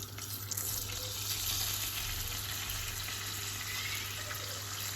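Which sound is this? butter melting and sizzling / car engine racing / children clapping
butter melting and sizzling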